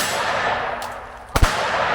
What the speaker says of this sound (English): I'll shut up and throw a couple rounds downrange